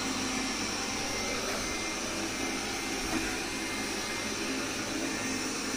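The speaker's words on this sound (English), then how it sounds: "this is the powerful mode in which the mop is getting operated" A 360 S7 robot vacuum mop running in powerful mode gives a steady, loud broadband whir with a constant airy hiss, unbroken for the whole stretch with no voices.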